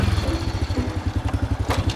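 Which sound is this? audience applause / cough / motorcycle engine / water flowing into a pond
motorcycle engine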